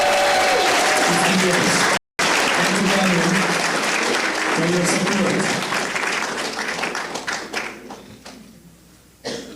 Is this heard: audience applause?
yes